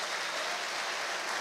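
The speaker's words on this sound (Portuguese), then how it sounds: "Vamos aplaudir o Senhor por essa geração." Brief burst of congregation applause during a church service, a dense, even wash of many hands clapping together without pause, no speech on top.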